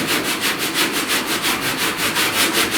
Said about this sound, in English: I will have to start sanding like this around this crease